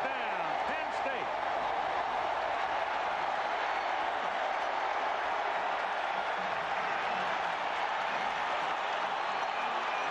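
A record stadium crowd of more than 96,000 roars after a Penn State touchdown against Miami in 1992, a steady wall of cheering and applause that holds unbroken from start to finish.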